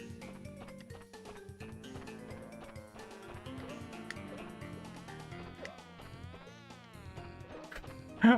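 Insect-like buzzing of chasing wasps in Crash Bandicoot 2, a continuous wavering whine with rising and falling pitch, steady and moderately loud alongside game sounds, no talk.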